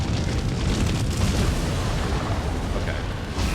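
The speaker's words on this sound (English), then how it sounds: "What the hell is that explosion?" Booming explosion in the video game Nioh 3, a dense, loud, sustained blast rumble filling the whole stretch with no talking over it.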